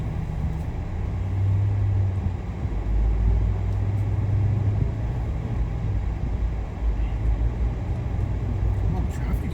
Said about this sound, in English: Come on, traffic here.